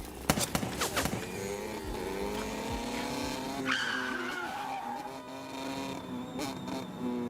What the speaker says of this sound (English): Now this is how you do a bike chase scene.